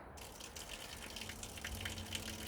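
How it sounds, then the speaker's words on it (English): Water is poured into newly fitted garden guttering on a budget leaf mould pallet bin build, making a faint, steady outdoor splash and trickle that runs alone for a couple of seconds. "I'm going to pop some water in to see if I've got a fall."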